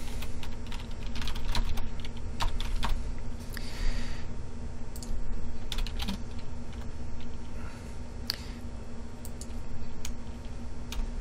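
An email address is typed on a computer keyboard in a continuous run of close, rapid keystrokes over a steady background hum, with no talking.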